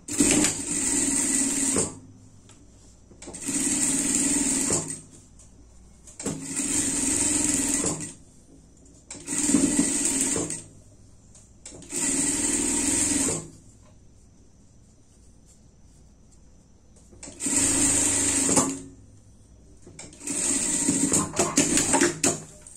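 Sewing machine topstitching a seam on a pet harness, running in six or seven bursts of steady stitching a couple of seconds each, separated by short quiet pauses, close and fairly loud.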